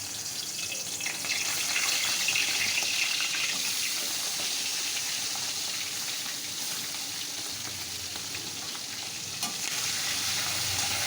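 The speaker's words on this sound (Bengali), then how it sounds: "এবার আমি গ্যাসটা কমিয়ে মাছগুলো ছাড়বো" Tangra fish fry in hot oil in a wok on a gas stove, producing a dense, continuous crackling sizzle close by at steady loudness throughout, with no speech.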